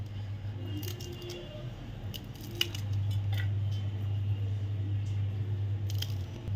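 A knife taps on a cutting board while green chilies are sliced finely and slantwise for a bitter gourd (karela) dish, giving a few faint, scattered clicks over a steady low kitchen hum.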